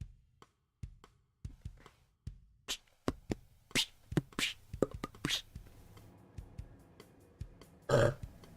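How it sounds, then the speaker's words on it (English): A burp into a desk lands near the end, a short loud belch after a run of soft taps, clicks and quiet whispery noises. "I had to burp into my desk real quick"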